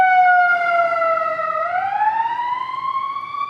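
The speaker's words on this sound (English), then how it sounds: "I've seen 2 police cars, 1 ambulance kind of go by." A police car or ambulance siren sounds on a Chicago street, one loud, close wailing tone that dips slowly and then rises again as the vehicle passes, with no talking over it.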